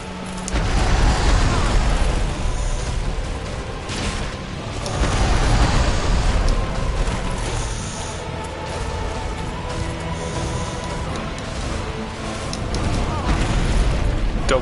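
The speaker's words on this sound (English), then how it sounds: "He does like a straightforward flame and he also does like a sideways flame attack." Black Dragon Kalameet unleashing flame attacks, straight-ahead and sideways sweeps, in Dark Souls Remastered: a dense roaring rumble of fire and booms swelling and ebbing across the fight, loud and continuous with game music underneath.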